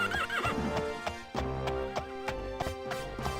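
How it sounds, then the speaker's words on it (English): A horse neighs in The Elder Scrolls Daggerfall, a long whinny at the start followed by a steady series of hoof clip-clops, all fairly close and alone with no talking. "I heard other horses."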